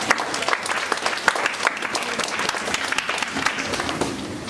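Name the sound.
congregation applauding Jesus Christ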